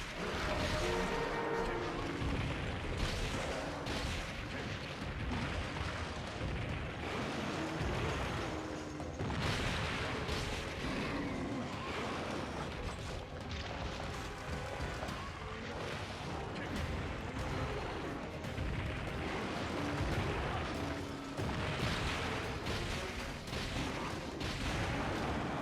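A heavy bowgun fires at a monster in Monster Hunter 4, with dense, continuous booming shots, mechanical clanks and game noise filling the whole stretch, loud and busy, with someone talking through parts of it.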